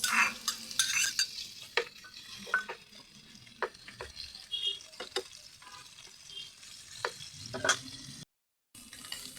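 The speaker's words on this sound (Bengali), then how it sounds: "মাছগুলি ভাজি হয়ে গেছে" Fish frying in oil in a pan, with a steady close sizzle broken by repeated scraping and clinking strokes of a utensil, fairly quiet and with no voices.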